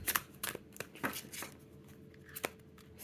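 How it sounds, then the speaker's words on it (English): An indie cardstock card deck being shuffled in the hands, several quick riffling bursts and soft slaps of cards, close up and fairly quiet. "Even though it's like big, it just shuffles so good."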